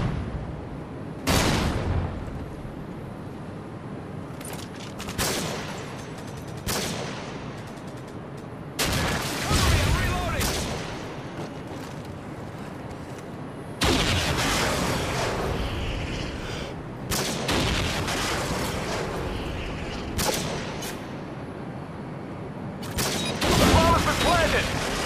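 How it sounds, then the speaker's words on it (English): Gunfire and a flashbang in Call of Duty Modern Warfare 2 hardcore Search and Destroy, with sharp bursts of shots and booms in irregular clusters, loud and near, among game voice lines and talk. "Tossing a flashbang."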